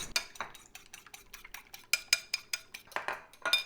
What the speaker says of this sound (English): I want to scramble these eggs, I gotta put right on the top of the bread